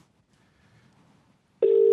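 Telephone ring tone starting abruptly after dialing, a loud steady tone following a quiet stretch.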